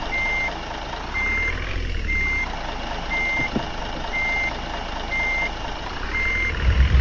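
In the Bus Simulator Ultimate video game, a bus in reverse gear sounds regular, evenly spaced reversing beeps, about seven in all, over a low engine hum.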